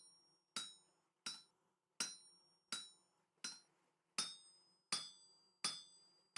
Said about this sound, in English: We've already got the hammer on us. This rubber hammer.